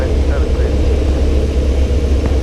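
A light aircraft engine drones steadily at full power during stall practice, a loud, constant low hum with cockpit chatter from people talking over it throughout.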